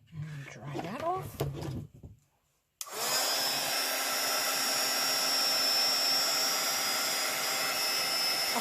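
A hair dryer blows steadily on purple paint daubed over white spots, starting abruptly after a few seconds of quiet voice and panting, then holding a loud, even broadband whoosh to the end.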